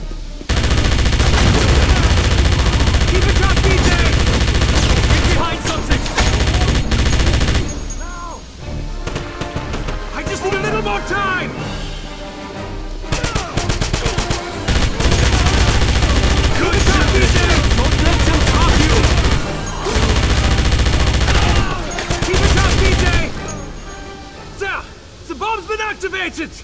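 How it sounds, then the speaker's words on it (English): MG-42 machine gun fire in the Wolfenstein video game, long loud rattling bursts broken by short pauses, with shouted voices mixed in among the gunfire. "MG-42!"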